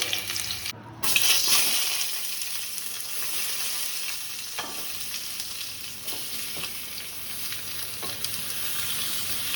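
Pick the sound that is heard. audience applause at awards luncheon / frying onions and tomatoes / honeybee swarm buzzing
frying onions and tomatoes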